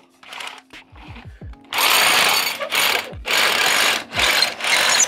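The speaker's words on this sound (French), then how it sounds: "Je remets le perfo dans le trou." A hammer drill bores through a wall. After a few faint short whirs, four loud grinding bursts follow with brief pauses between them, close by.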